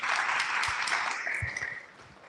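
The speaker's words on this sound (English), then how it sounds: "Please give him a round of applause." Audience applause at an evening sports and education panel event, a sustained wash of clapping that fades gradually over a couple of seconds.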